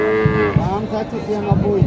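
A cow at a busy cattle market lows in a long, rising and falling moo, loud and close, while rhythmic thumping noises sound underneath.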